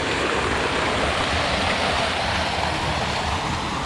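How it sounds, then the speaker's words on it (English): A small waterfall spilling from a swimming pool area at Buttermilk Falls makes a steady, dense rush of water, loud and close, constant without a break and with no voices. "creating its own little waterfall"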